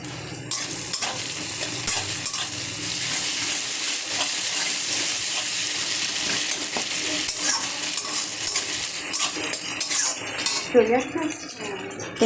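Whole garam masala, ginger-garlic paste and green chilies sizzle loudly in hot oil with fried onions, a steady close frying hiss with scraping stirs, and a voice speaks briefly near the end.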